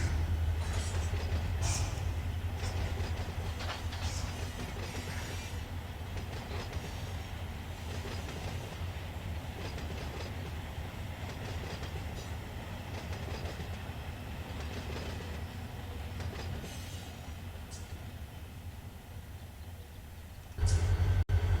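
Freight train in the Run8 Train Simulator V3 video game rolling through the Mojave on a local run, a steady low engine drone with rhythmic wheel clatter and occasional metallic clanks, continuous for about twenty seconds and a brief louder surge at the end.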